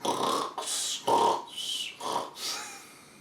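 A voice imitates snoring with about five close, rhythmic rasping breaths in and out, each around half a second long, fading toward the end.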